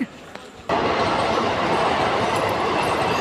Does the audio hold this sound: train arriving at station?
yes